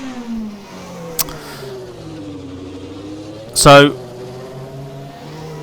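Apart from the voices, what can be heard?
1993 F1 car engine leaving pits, Assetto Corsa video game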